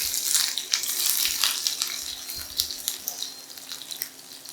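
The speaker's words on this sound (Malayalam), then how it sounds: "ഇടുമ്പോഴത്തേക്കും അതിനകത്തേക്ക് നമുക്ക് ഈ അണിയൻ ഇട്ട് കൊടുക്കാം." Sliced onion dropped into a generous amount of hot oil for a Kerala-style egg roast, giving a broad, steady hiss and sizzle with bubbling pops close by, easing slightly toward the end.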